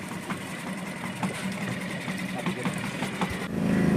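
A small boat's engine idles at a jetty with a continuous mid-pitched rumble, voices murmuring over it, and the motor grows louder near the end.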